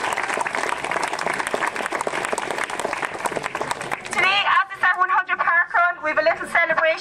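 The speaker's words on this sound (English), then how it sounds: "Give them a round of applause." An outdoor crowd at a parkrun briefing, the 100th Lough Key parkrun, claps loudly for the tail runners in a dense burst of about four seconds, then the applause cuts off and voices and other sounds follow.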